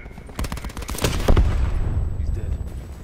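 Rapid machine-gun fire rattles in Call of Duty Black Ops 4, a quick string of loud close shots followed by a heavy blast and rolling rumble that slowly fades.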